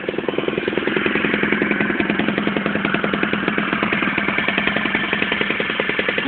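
A Peugeot Vivacity 50 scooter's small engine runs right after starting, a close, steady, rapidly pulsing putter that stays even throughout with no talking.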